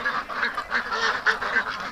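Penned ducks quack loudly and repeatedly in a rapid, overlapping chorus close by.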